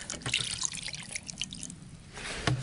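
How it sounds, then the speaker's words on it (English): Vinegar is poured over cast iron fence pieces in a container, a faint trickle and a few splashy drips, close by and quiet. "I'll cover these with vinegar."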